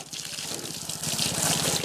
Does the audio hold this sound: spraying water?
yes